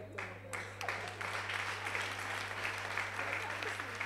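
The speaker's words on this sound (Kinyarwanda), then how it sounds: "mukomya amashyi" An audience at a church sermon applauds continuously, a dense wash of clapping from many hands at moderate distance, steady for several seconds, with voices mixed in.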